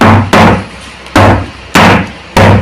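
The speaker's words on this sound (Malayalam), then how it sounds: "ടേപ്പ് ചെയ്യുമ്പോൾ ഇങ്ങനെ മേലേക്ക് ബബിൾസ് വന്ന് പൊട്ടിപ്പോവും, അതിലുള്ള എയർ പോകും കേട്ടോ" A cake tin of batter is rapped down on a kitchen counter to knock out air bubbles: four sharp, loud knocks spaced about half a second to a second apart, each with a brief ringing tail.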